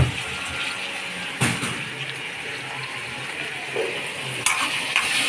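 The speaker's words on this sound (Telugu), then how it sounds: "ఇప్పుడు టమాటాలు అనేవి వేస్తున్నాం." Tomatoes tipped into a pan of frying bitter gourd curry, a steady close sizzle with stirring scrapes and a few sharp clinks of the spoon against the pan.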